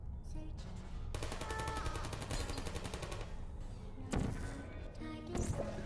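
Rapid automatic fire from turrets in the video game Portal, a dense rattling burst lasting a couple of seconds, followed by a few heavier thuds and impacts, fairly quiet overall.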